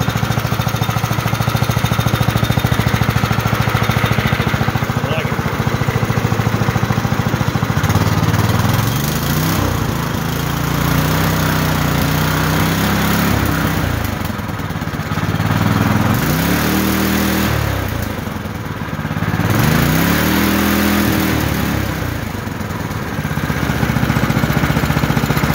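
A Predator 212 gasoline engine runs steadily up close, its loud putter rising and falling as the throttle is revved several times.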